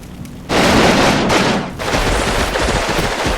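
Tank fire and gunfire rage in the wargame Combat Mission during a Russian infantry assault: after a quiet moment a loud, dense barrage erupts, dips briefly, then surges again with heavy low booms under rapid crackling shots.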